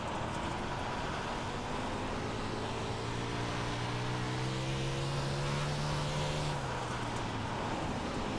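Race car engine on the Weedsport dirt track, steady loud drone with rising and falling harmonics as the throttle is eased off and reapplied through the turns, alone without talk.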